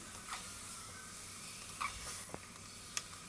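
Country rooster chicken sautéing in masala, a faint, soft sizzle with a few brief scrapes or taps of a spoon over a short stretch.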